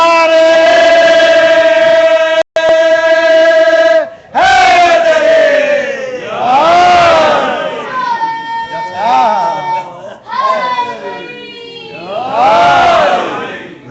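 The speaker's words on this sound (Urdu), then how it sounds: "نعرے" A large crowd at a Shia majlis in an imambargah chants slogans in unison, loud, sustained voiced calls repeated in waves with brief pauses between each chant.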